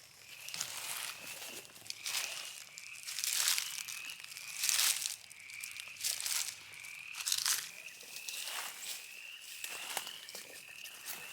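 Footsteps crunch through dry, brittle swamp vegetation, about a dozen slow, evenly spaced crackling steps, close and crisp, with no talking.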